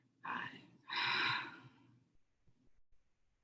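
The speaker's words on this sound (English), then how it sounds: "Last time collectively, long, deep breath." A group of people takes a long, deep breath together, with two audible breathing swells, a shorter inhale followed by a longer, louder one, then quiet.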